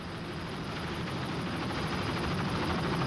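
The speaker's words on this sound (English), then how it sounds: "As our helicopter swings by there, across the screen." A camera helicopter flies over a 1995 Miami Beach powerboat Grand Prix, its steady rotor and engine roar holding even and fairly distant throughout the short stretch, with no talk.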